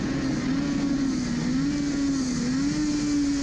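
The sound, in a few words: Suzuki RG500 racing motorcycle engine braking into a corner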